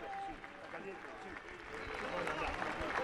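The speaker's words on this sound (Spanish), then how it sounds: "los aplausos son porque se va Giuliano Buffarini" A crowd applauds at a rugby match between Jockey and Duendes as a player is substituted off; sustained, moderately distant clapping continues under a commentator's voice.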